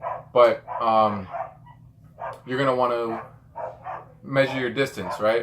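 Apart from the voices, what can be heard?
dogs barking in the background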